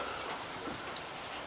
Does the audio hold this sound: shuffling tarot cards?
no